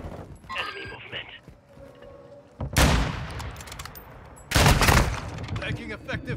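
Two loud bursts of automatic gunfire in Modern Warfare 2 team deathmatch, each sustained rattle lasting a couple of seconds, with quieter game effects and radio chatter between them.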